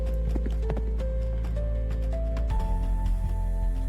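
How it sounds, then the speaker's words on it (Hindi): Cartoon sound effect of horse hooves clip-clopping in a rhythmic series of sharp knocks over a low steady rumble, with a faint whinny-like tone, no speech. "आधी रात होते ही उसे घोड़े के टापों की आवाज सुनाई देने लगी।"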